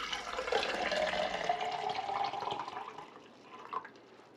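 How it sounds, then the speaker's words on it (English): Ice water pours steadily into a 24 oz Vitamix stainless steel tumbler, a continuous close splashing and trickle that gradually thins toward the end, with no voices. "I'm pouring it near full of ice water."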